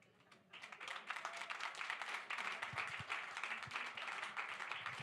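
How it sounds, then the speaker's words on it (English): Audience applause for two panelists after an evening discussion, a dense, steady wash of many hands clapping that swells quickly after a quiet start and holds loud to the end. "So a big round of applause for Brian and Sarah, please."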